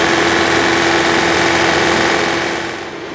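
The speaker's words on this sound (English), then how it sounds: "The unit will then automatically preheat and start. Approximately 120 seconds later, the engine may change to high-speed operation." An SB series unit engine with a uP-VI controller runs after starting automatically, giving a steady, close mechanical drone with a vibrating hum. It holds even throughout, then eases slightly lower toward the end, with no talking.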